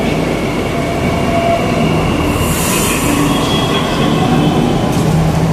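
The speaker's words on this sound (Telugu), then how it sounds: "ఇదే మనని ఎర్రకోట వరకు తీసుకెళ్తుంది. ఈ ట్రైనే ఇది. ఇట్లా చూడడానికి ఇట్లా ఉంటుంది మన మెట్రో, ఢిల్లీ మెట్రో." A Delhi Metro train runs steadily past, a continuous loud rumble with metallic wheel squeal and a faint high hiss, and no voices.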